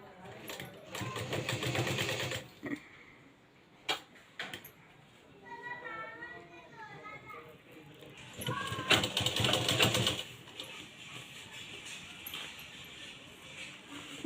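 A sewing machine stitches piping onto a blouse in rapid mechanical bursts, with someone talking between runs.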